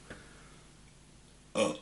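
A single short, loud burp right after drinking water, near and alone after a quiet pause.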